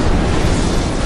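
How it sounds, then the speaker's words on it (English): A thrown remote mine detonating in Splinter Cell Conviction, a loud, full-band blast that roars with a dense, continuous rumble from start to finish without any talk over it. "Throw the remote mine."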